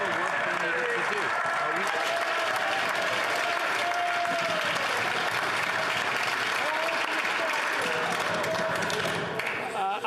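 Sustained applause and desk-thumping fill the House of Commons chamber during Question Period after the Prime Minister's answer, a dense continuous roar with voices mixed into it throughout.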